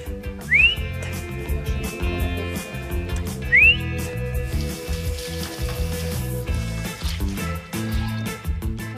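Someone whistles twice, each a short rising note that holds steady, over clattering and background music.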